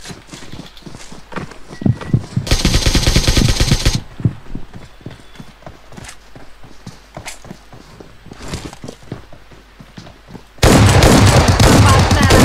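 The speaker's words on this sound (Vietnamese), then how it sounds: "Các bạn bắn một cách thoải mái." Gunfire at a shooting session, heard as dense bursts of rapid, loud shots in clusters with scattered single reports and loud sustained blasts between them, no talk audible.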